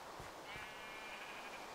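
Sheep in the video game Minecraft give a faint, soft bleat or two over a low steady background hiss, with no one talking.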